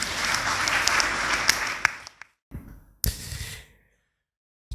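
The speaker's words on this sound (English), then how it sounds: "Give him a round of applause." A congregation at a church service breaks into a round of applause, dense clapping that fades over about two seconds, then a short burst of noise and a final flurry before falling silent.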